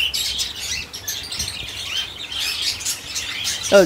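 Cockatiels chirp and squawk at a bird farm, a busy chorus of bright, overlapping calls filling the space continuously, with a sharper call near the end.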